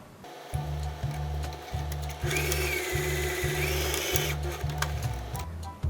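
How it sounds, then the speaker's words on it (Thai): A sewing machine stitches a cloth bag closed in rhythmic bursts, its motor whirring steadily between short pauses, close and clear with no talk. "จากนั้นก็นำไปเย็บปิดได้เลยค่ะ"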